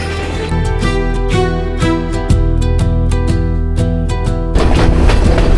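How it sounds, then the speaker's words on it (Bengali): A train runs through hilly country in Sri Lanka with a steady rumbling drone, its horn or whistle tones sounding in repeated bursts close by, with rhythmic clicking pulses and a rougher rush near the end. "সমুদ্রে মোড়ানো পাহাড়ের বুক চিরে ছুটে চলে একটা ট্রেন"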